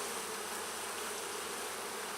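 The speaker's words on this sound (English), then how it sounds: "look at the amount of bees that is on this" A dense mass of honey bees swarms over a honeycomb frame during a honey harvest, giving a constant close buzzing hum that stays faint and even throughout, with no talk.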